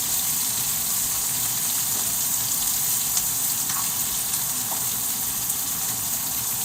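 Onions fry in chorizo-reddened oil, giving a steady, dense sizzle that holds evenly throughout with faint crackles and no voices.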